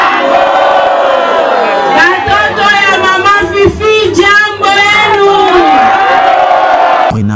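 A jubilant crowd at a political party rally in Tanganyika cheers and shouts continuously, with loud, dense overlapping voices and whoops rising and falling over about seven seconds.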